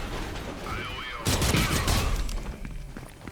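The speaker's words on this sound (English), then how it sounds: "Is there any reason we're shooting these stormtroopers?" Gunfire from blasters aimed at stormtroopers in a Star Wars video game, a sudden dense burst of rapid shots and impacts after a quieter stretch, with a voice speaking over the action.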